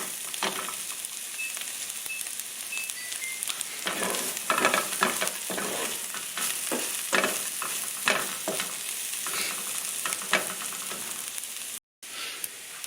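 Bacon sizzles steadily in a pan for chicken carbonara, a dense, close crackle with repeated scraping stirs. A brief dropout comes near the end.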